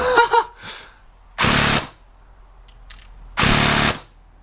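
An airsoft gun fires two short full-auto bursts with 0.28 BBs, each a dense, loud rattling stream lasting about half a second, separated by a pause with faint clicks.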